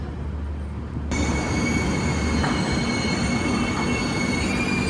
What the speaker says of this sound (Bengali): আর ওইদিকে শালিমার হায়দ্রাবাদ ট্রেনটা ঢুকেছে ওই প্ল্যাটফর্মে।